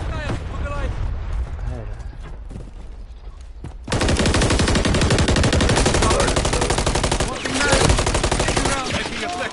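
Rapid gunfire from Call of Duty Modern Warfare 3 multiplayer, scattered shots at first, then dense sustained automatic bursts and blasts, loud and close, with players talking over the shooting.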